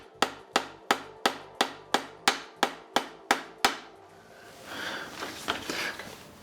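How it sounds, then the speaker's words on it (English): Rubber mallet striking the front of a bicycle during headset bearing service: about eleven sharp, evenly spaced knocks in quick succession, loud and close, followed by a few seconds of rustling and scraping handling noise. "we grab our trusty friend here, rubber mallet, and we're gonna lift the front of the bike up"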